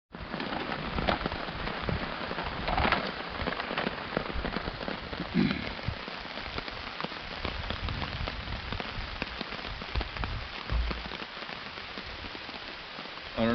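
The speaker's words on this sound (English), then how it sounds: "it's still raining" Steady rain patters on a tent or tarp at a riverside campsite during an overnight float trip, a soft, dense, even drumming that continues throughout without any talk.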